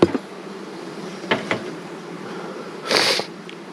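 Honeybees crowd a hive being fitted with a super on the way to the heather, giving a steady low hum broken by a few short knocks and a brief hissing puff near the end.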